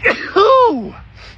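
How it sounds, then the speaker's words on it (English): A single sharp human sneeze bursts out close to the microphone, followed by a brief vocal tail. "I'm about to sneeze too"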